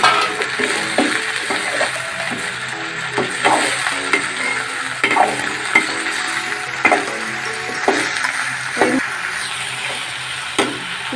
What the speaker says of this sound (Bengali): লতিগুলো ভাজা হয়ে আসছে